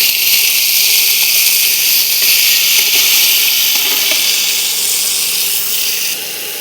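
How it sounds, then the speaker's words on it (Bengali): Pumpkin and potato fry together in a pan for Bengali kumror chhokka, giving a steady, bright sizzling hiss that runs loud and unbroken throughout, easing slightly near the end. "এবার কুমড়ো আলুটাকে ভালো করে একসাথে ভেজে নেব।"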